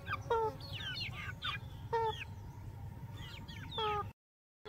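Chickens in a rural yard cluck softly in short, scattered bursts, a few calls close and others farther off, over a low background murmur before falling silent.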